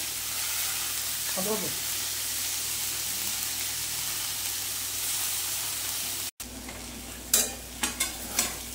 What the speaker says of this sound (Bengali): এবার এই বাঁধাকপিটা দিয়ে ভালো মতন কষে নেব।